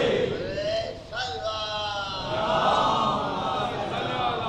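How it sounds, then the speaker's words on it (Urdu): A large crowd at a Shia majlis gathering raises a loud, sustained collective shout of the Nara-e-Haidari slogan, voices swelling together in a dense, continuous roar with no clear breaks. "یہ لوگ نعرے حیدری بہت لگاتے ہیں"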